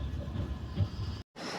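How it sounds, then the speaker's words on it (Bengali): Rumbling, rattling ride inside a moving train, a steady low clatter that cuts out briefly near the end and then resumes. "ট্রেনটা এত নড়ছে"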